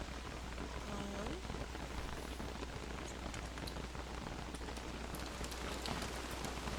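Steady rain falls in a winter scene in the video game Don't Starve, a dense, even hiss of drops that runs without a break through the whole stretch, with no talking over it.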